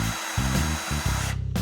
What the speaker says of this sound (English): I'll take the drill from you.